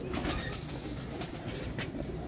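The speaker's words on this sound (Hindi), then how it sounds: "इनका पुराना मामदीन कबूतर है" A pigeon coos softly nearby during a short stretch, over quiet background noise.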